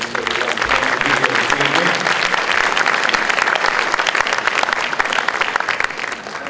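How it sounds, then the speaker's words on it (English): A graduation audience applauds parents and guardians at a high school ceremony, a dense, sustained wash of clapping from a large crowd that stays loud and steady throughout. "I'd like to also just reach out a nice round of applause for the folks that supported you in your journey"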